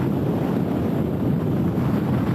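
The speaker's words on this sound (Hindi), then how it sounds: "अभी भी बारिश हो रही है और तेज हवाएं चल रही हैं।" Strong cyclone winds from Cyclone Phailin roar steadily with rain, a dense, continuous low rushing noise buffeting the microphone without pause and no voices.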